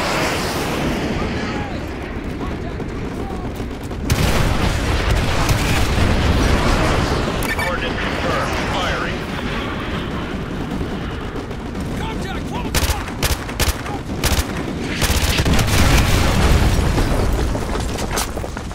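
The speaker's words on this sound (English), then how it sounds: "use your laser designator to call in artillery on those vehicles. Fire mission received. Artillery inbound." Artillery strike explosions in the video game Call of Duty Modern Warfare 2 Remastered: heavy booms and blasts with gunfire rolling across a dense battlefield din, loud and continuous, with sharp impacts near the end and radio voices speaking over the action.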